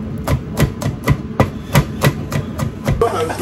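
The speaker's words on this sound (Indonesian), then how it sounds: "Berikutnya bawang putih, ini cuma digeprek aja bawang putihnya. Lalu kita cincang kasar seperti ini." A knife coarsely chopping crushed garlic on a board in a large-batch kitchen, eight or nine sharp, evenly spaced chops ringing out close and clear with no talk, ending in a brief scrape.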